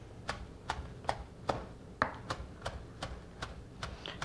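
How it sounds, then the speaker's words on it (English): A knife chops fresh chives on a cutting board in a steady rhythm of about ten crisp, evenly spaced taps, close up and fairly quiet, with no talking. "we're just gonna go ahead and chop them into little pieces"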